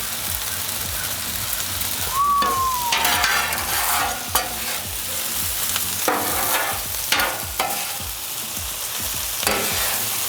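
Mango chicken fried rice crackling and sizzling in a hot wok, with repeated scraping strokes of a spatula stirring it and bursts of hiss as the rice is tossed, close and loud.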